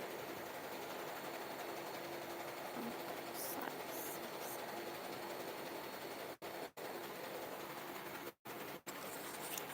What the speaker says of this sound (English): now it's now passing through the powder shaking machine